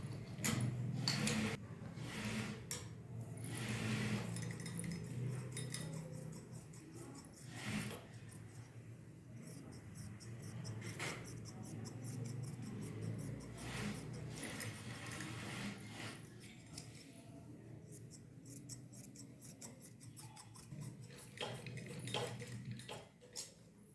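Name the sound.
scissors cutting trouser fabric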